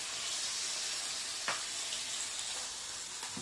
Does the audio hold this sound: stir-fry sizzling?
yes